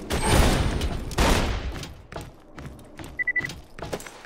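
Gunfire in the Borderlands 2 shooter game: two heavy bursts of shots up front, then scattered fainter pops and thuds with a short electronic beep.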